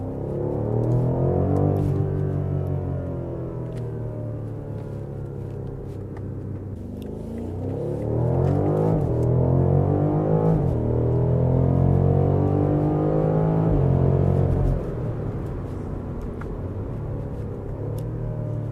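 A 2018 BMW M550i xDrive in sport mode gives a deep, rumbling exhaust note that swells as the car accelerates, eases off, then builds again, loud and close from inside the car.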